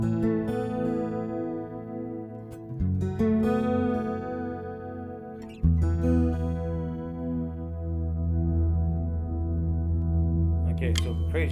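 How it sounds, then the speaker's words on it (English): Electric guitar played through a NUX Stageman Floor with the reverb set to maximum, sustained chords ringing into a long, washy tail, with a couple of fresh strums about midway and a brief noisy flourish at the end. "Let's go maxed out with the reverb."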